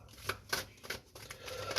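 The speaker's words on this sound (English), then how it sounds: "Just going to give them a couple more shuffles before I start pulling cards." A deck of oracle cards being shuffled by hand, several quick riffling bursts in uneven rhythm, close and soft, with no talk.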